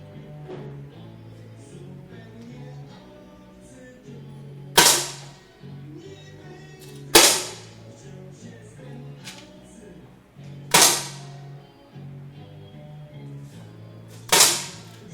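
Four sharp shots crack out at spaced intervals in a shooting competition gold medal match, each decaying quickly, over a low hum and faint background murmur.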